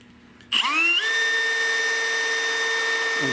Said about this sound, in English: put a drill hole through this, like a pilot hole